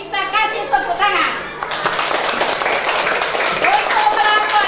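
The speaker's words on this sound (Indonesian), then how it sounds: "Kalau begitu kita kasih tepuk tangan." Schoolchildren clap together in an elementary-school classroom, a dense burst of hand claps after a voice, continuing steadily with chatter mixed in.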